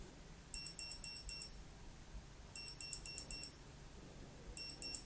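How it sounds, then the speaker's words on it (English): A Sjöö Sandström UTC Skydiver watch timer beeps in three groups of four quick high-pitched chirps, evenly spaced about two seconds apart, faint and close in a quiet room. "we'll see how the beeping sounds like"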